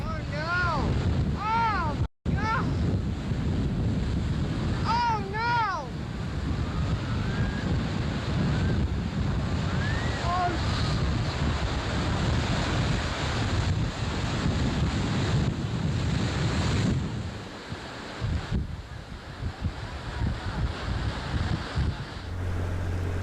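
Rough surf and gusting wind roar continuously at a harbour entrance in the late 1980s, with heavy wind buffeting on the microphone and a brief dropout near the start.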